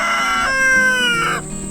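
Farm chickens clucking and calling up close, a drawn-out tonal crow-like call with layered clucks, loud and alone without talk.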